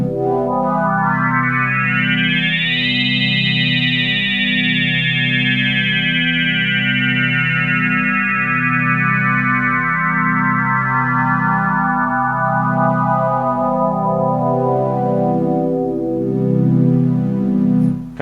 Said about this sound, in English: Resonant sine wave.